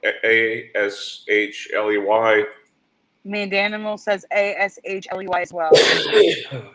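A single sharp sneeze bursts out near the end of a stretch of steady conversational talk, loud and close.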